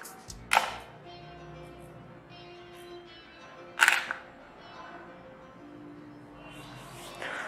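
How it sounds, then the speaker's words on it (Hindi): Two distinct shutter clicks from a Canon EOS 200D DSLR camera, spaced about three seconds apart, sharp and close against a low room hum with no talking. "यहीं से हम करते हैं कैमरा को क्लिक करके मैं आपको बताता हूँ"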